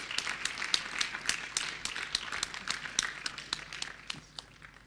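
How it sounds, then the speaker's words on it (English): Conference attendees give a round of applause for the Barbados Fire Service, scattered, uneven hand claps from a modest crowd, close and distinct, tapering off toward the end. "We think this is deserving of a round of applause for the Barbados Fire Service."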